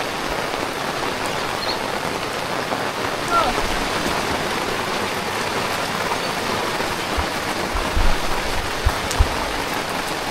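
Steady rain falls outside a home kitchen with a dense, even hiss and occasional louder drips near the end, and a voice briefly exclaims once.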